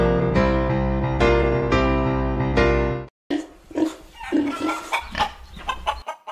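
Chickens and pigs in a farm pen, staged as a radio drama effect: a rooster's drawn-out crowing repeats several times, then a short gap gives way to busier clucking and animal noises, loud and close with no talk.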